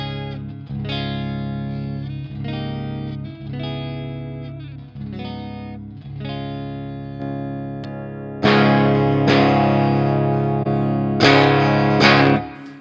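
Electric guitar played through the clean channel of a Blackstar St James amp plugin: ringing chords and picked notes, loud and close, with brighter, harder strums toward the end and no voices.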